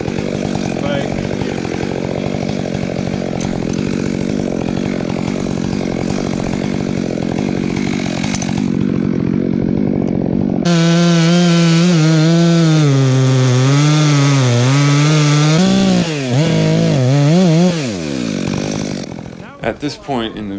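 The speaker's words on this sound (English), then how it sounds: "I forgot to turn my chainsaw off" Chainsaw running near a dead oak tree, a steady loud engine drone that shifts after about ten seconds into a strong revving whine with rising and falling pitch, easing off near the end; talk is faintly present beneath the saw.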